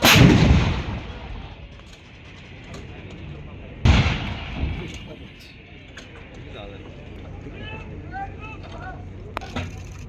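Indian Army artillery gun firing on Cone Hill top at a Devlali firepower display, two heavy booming blasts a few seconds apart, each echoing and fading, with birds chirping faintly in the quiet between.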